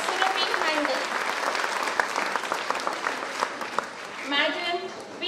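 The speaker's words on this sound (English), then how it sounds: "Let us give a big round of applause to our distinguished chief guest, Ms. Surabhi Hande" Sustained audience clapping fills a school annual prize distribution ceremony as a chief guest is welcomed, steady and dense throughout with crowd murmur and a voice briefly over it.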